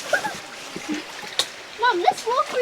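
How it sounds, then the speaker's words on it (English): Feet splash through shallow water in a rocky gorge stream in Karijini National Park, giving irregular splashes and trickles while people talk nearby. "I'm just going to walk in the water"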